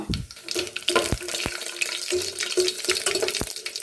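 Mustard seeds, cumin, curry leaves and dry chilli sputter in hot coconut oil, a steady close crackle broken by sharp pops and spits.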